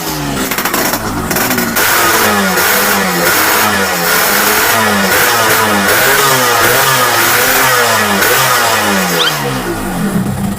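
A motorcycle engine revs hard and keeps revving in rhythmic, throaty surges, loud and close throughout with no talking.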